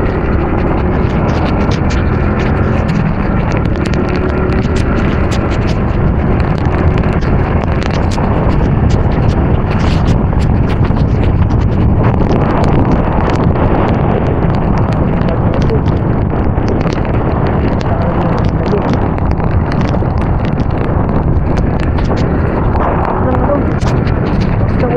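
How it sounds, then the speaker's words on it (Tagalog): Strong wind roars steadily across a microphone on the Pangasinan to Nueva Vizcaya road in the aftermath of Typhoon Paolo, a loud continuous rushing buffet with no break. "Hangin dito"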